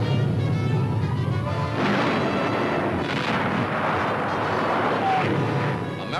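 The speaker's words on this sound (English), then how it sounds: "American artillery answers back." Artillery fire in a 1945 Manila newsreel, American guns answering a retreating enemy, heard as a continuous loud, dense roar of booming blasts without clear separation, through old muffled recording.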